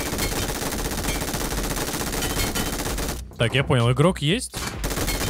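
Rapid automatic gunfire in the video game Metro Royale rattles continuously and loudly, then someone speaks briefly over it before the shooting resumes.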